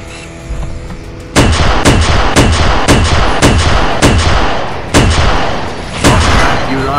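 A shredder fires in Halo SPV3, letting off a string of about ten loud, punchy shots at a fairly steady pace, each with a sharp crack and a thudding tail, close and dominant.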